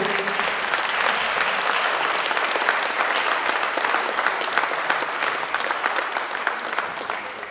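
Steady, dense applause from a large audience in a hall at a charity celebration, loud and sustained throughout without a break.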